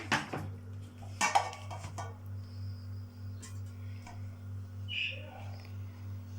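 A metal baking tray set down and handled in a kitchen, a few clattering knocks and scrapes early on, then quiet with a low steady hum and faint small clinks.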